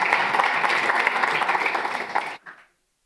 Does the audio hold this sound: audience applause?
yes